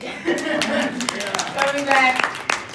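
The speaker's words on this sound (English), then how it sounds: "And yeah, you can clap." Luncheon audience clapping in a hall, scattered claps coming through in bursts while a speaker's voice carries on over them.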